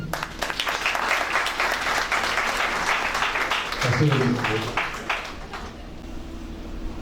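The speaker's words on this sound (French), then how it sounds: "on peut les applaudir" Guests at a civil wedding ceremony applaud the couple, a broad, steady burst of clapping from a gathered crowd that fades slightly toward the end, with a voice and low tones surfacing partway through.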